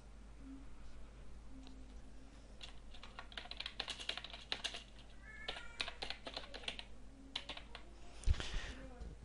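Keys clatter on a computer keyboard as text is entered, a steady run of light, irregular clicks close to the mic, with a faint cat meow and a sharper knock near the end.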